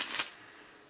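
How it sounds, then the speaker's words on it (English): Playing cards riffled and shuffled in a mix of face-up and face-down piles, a brief soft burst of flutter at the start that fades quickly, heard alone and close. "Now I'll have them switch the two piles, and shuffle face up and face down"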